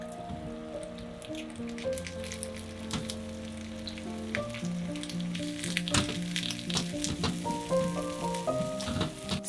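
Egg and cut okra sizzle in a lightly oiled pan for a ponzu stir-fry, a continuous crackling hiss with scattered pops and soft clinks throughout.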